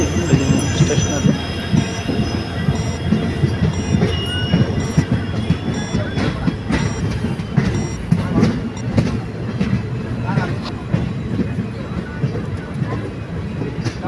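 An Indian Railways train rolls into Davanagere station, giving a steady close rumble with clickety-clack from the wheels and thin, high squeals, while voices talk over it throughout.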